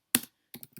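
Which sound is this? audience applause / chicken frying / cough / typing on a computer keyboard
typing on a computer keyboard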